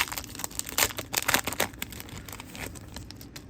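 Foil wrappers on Topps Chrome Disney trading card packs crinkle and tear open up close, a steady run of crisp rustling and ripping bursts with no talking.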